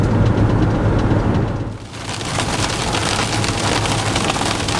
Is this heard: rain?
yes